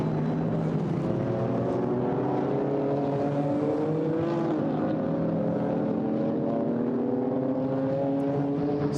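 GT4 race cars, a BMW and a Ginetta among them, pass close together at Paul Ricard, their engines a loud, sustained drone with pitch sweeping across the whole stretch and no talk.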